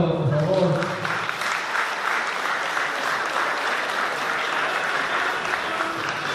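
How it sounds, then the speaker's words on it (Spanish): Loud, sustained applause from guests at a quinceañera celebration, a dense wash of many hands clapping that holds steady for several seconds, with a voice briefly audible at the start. "Fuerte el aplauso, por favor."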